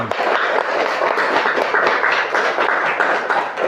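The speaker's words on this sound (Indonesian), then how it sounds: "Kasih tepuk tangan." A primary school class claps for a group that has just finished presenting, a dense, even patter of many hands close by, lasting several seconds without pause.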